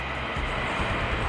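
Trains pass through a station, heard as a continuous, moderately loud rumble and wash of noise with no speech over it.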